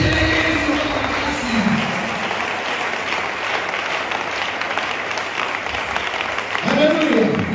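Church congregation at a service in Congo-Brazzaville applauding and cheering for Jesus, a dense, steady wash of clapping that runs throughout, with voices rising in the crowd near the end.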